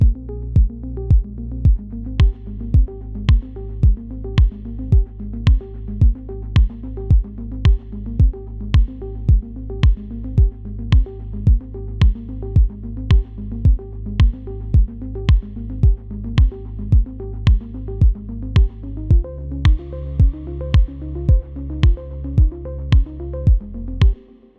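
A rim shot drum pattern from an electronic music track, tapping in a steady, even rhythm for about twenty-five seconds over a sustained, evolving wind-like pad that shifts pitch near the end. No voices.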